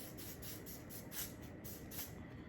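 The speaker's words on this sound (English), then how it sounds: "Now I'm finna just go in with this spray right here" Several short hissing hair spray bursts in quick succession, close and fairly soft, over a low background rumble.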